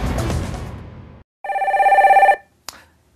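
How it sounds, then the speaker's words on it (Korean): A telephone bell rings once in a loud, rapid trill after a burst of music, followed by a short metallic click. "자, 전화 받겠습니다."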